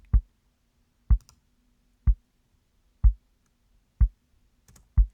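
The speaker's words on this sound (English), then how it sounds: "on the kick out mic, I've just got this EQ bringing out a lot of the muddy low mids" A kick drum heard through the outside mic with EQ boosting the muddy low mids, six deep isolated thuds struck at an even pace about one second apart.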